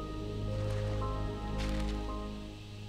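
A character splashes into water in the Ori and the Will of the Wisps video game, a soft squishy splash and watery bubbling over a low sustained musical drone.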